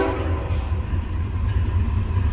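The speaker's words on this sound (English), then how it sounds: "Here is a westbound high priority Z train." A westbound high-priority Z freight train passes close by with a loud, heavy low rumble and steady rolling wheel noise that swells and pulses throughout.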